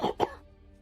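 Two quick, harsh coughs close up, one right after the other, then quiet.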